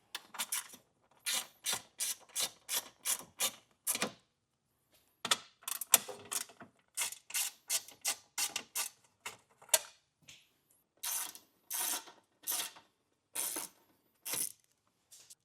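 A T25 Torx bit turning screws out from under a 2024 Audi Q5 behind the muffler, rapid rhythmic ratcheting clicks in short repeated bursts with brief pauses, close and fairly quiet.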